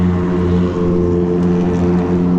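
A loud, throaty engine drones steadily with a deep rumbling exhaust note, close and continuous throughout.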